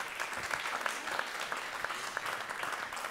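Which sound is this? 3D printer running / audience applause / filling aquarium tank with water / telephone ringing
audience applause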